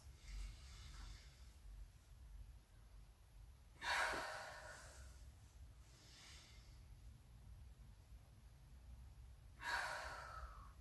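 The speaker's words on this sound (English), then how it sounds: "2 more breaths." Deep yoga breaths during a relaxation stretch, two long breathy exhales spaced several seconds apart, close and soft over a quiet room hum.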